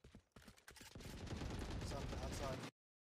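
Several guns firing together in the tactical shooter Valorant, a dense sustained rattle of overlapping automatic fire that cuts off abruptly, preceded by a few separate shots and brief voices.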